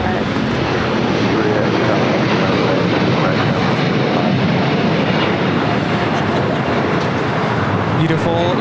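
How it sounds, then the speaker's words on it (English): LATAM Airlines Boeing Dreamliner taking off at LAX, a loud continuous jet engine roar with broadband rumble, steady and near, with faint voices beneath. "Beautiful Dreamliner takeoff with Latam Airlines, flight 8087, taking off to Sao Paulo, Brazil"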